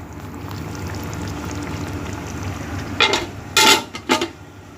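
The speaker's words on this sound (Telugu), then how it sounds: "సో మళ్ళీ మూత పెట్టేద్దాం" A metal lid goes onto a pot of Hyderabadi mutton dum biryani simmering on a low flame, giving a few sharp clanks and rattles near the end after a stretch of quiet kitchen hiss.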